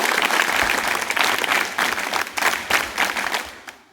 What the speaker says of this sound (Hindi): इसका ताली बजाकर दिखाओ जरा एक बार कैसे बजाई।